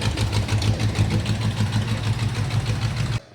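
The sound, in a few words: Mustang 2V 351 Cleveland engine running rough, sputtering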